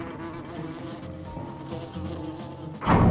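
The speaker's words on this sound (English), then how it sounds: "Good news for the bees." Bees buzzing in a steady, continuous drone with a wavering insect whine, alone and fairly close, swelling louder at the very end as if a bee passes near.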